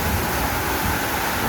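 Steady rain pours down outside a home while children play in the water, a dense, unbroken wash of noise filling the whole moment without pause.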